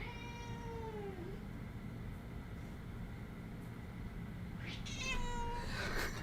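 A cat meows and caterwauls indoors, with a drawn-out meow at the start and another louder, rising meow near the end over a steady low background hum.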